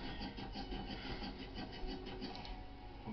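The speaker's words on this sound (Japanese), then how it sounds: "かつお節専門店店主中野さんに削っていただくことに" Dried bonito katsuobushi shaved by hand at a specialty shop, a quiet continuous rasping scrape with regular strokes, close and steady.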